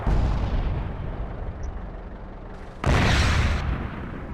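Tank guns firing in a tank video game: a continuous rumbling boom bed, then a loud, sharp burst of cannon fire near the end that stays strong for almost a second.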